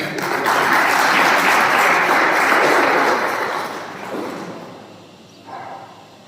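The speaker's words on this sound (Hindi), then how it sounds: "इनके लिए जोरदार तालियां।" Audience applause at an event in India, a loud, sustained burst of clapping from a crowd that swells, holds for several seconds, then fades away.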